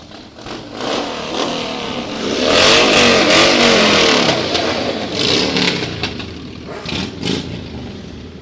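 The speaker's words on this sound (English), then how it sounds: "See if we can get the veterans to rev up their motorcycles a little bit for us." Veterans revving motorcycles at a Veterans Day parade, several engines swelling into a loud, throaty roar near the middle, then dropping to uneven bursts of throttle and clatter nearby.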